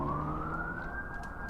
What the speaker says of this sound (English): I hear the distant sound of sirens